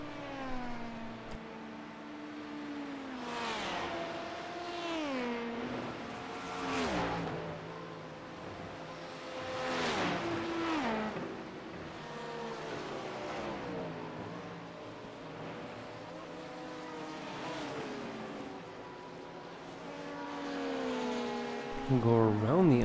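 Racing-game engines from an IMSA hypercar and a Porsche GT3 car: a continuous run of engine notes rising and falling through gear changes, with repeated revving sweeps and one more car audible near the end, heard under steady commentary.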